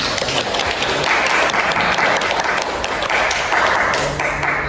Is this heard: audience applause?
yes